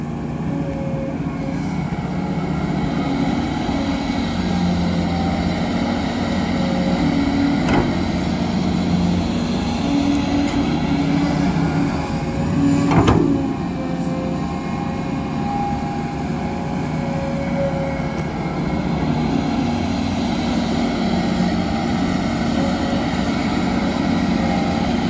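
A small aircraft or model plane engine with propeller runs at a steady throttle setting 8, a continuous loud drone with harmonic tones that barely shifts over the full length, with one brief sharp click midway.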